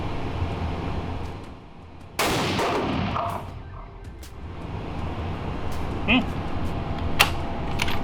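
A rifle firing 6.5 BC handloads at an outdoor range gives one sharp, loud shot, with a quieter crack and some chatter among the shooters afterward.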